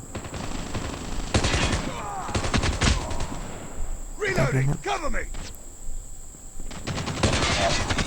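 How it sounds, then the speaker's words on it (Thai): Rapid automatic gunfire rattles in Call of Duty Mobile, bursts of shots over continuous game sound, with a player's voice talking over parts of the action. "เรายิงไม่โดนครับ ตรงช่วงแรกเขายิงเราโดนก่อน"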